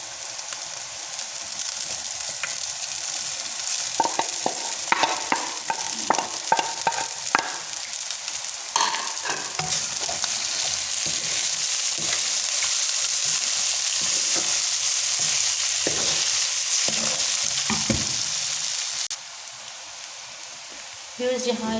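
Boiled rice stir-fried in a hot pan for vegetable fried rice, with a steady loud sizzle and repeated scraping, tossing knocks from a spatula throughout, the frying easing slightly near the end.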